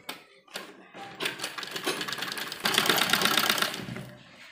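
A sewing machine stitches a sleeve onto an embroidered net lehenga blouse in one continuous close run. The run grows faster and louder partway through, then eases off at the end.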